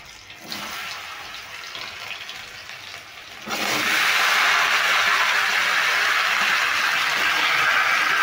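Cut, washed kankar pieces go into a hot pan with tempering spices and a green chilli. A loud, steady sizzling hiss bursts in about halfway through and replaces the quieter background crackle.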